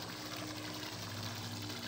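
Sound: water pump running before being switched off

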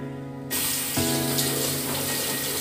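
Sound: washing face with running water

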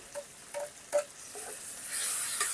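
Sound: garlic paste frying with onion and tomato

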